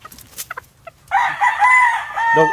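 A Bacolod line gamefowl rooster crows loudly and close by in a single long cock-a-doodle-doo, preceded by a few short clucks and backyard noises.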